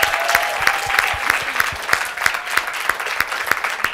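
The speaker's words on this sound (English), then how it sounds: "Big round of applause." An audience claps loudly and steadily, the applause settling into an even, rhythmic beat throughout.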